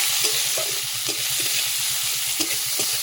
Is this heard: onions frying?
yes